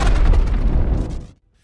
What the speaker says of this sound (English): Atlas aimed her makeshift cannon and fired, striking the ship and grounding it just before takeoff